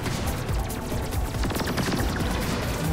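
Continuous gunfire from robot vehicles in the video game Robocraft, a dense rapid stream of shots and impacts that stays loud and steady throughout, with no talk over it.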